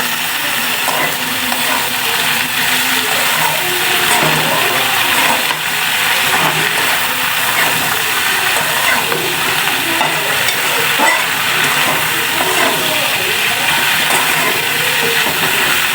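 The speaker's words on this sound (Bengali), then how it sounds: "আমি এটা ভালো মতন কষাই নিব।" Water spinach curry with dried fish and coriander powder sautéing in a pan, a steady dense sizzle running throughout with soft scraping stirs layered over it, close and fairly loud.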